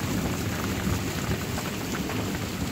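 Steady rain during a thunderstorm, a dense, even hiss of drops hitting surfaces close by, continuous and fairly loud with no voices.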